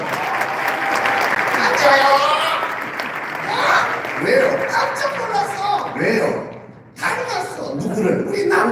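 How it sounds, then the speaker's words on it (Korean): Audience applause breaks out at a church ventriloquism show, a dense, loud clatter of clapping mixed with chuckles and a voice talking over it, briefly dipping before resuming. "박수로!"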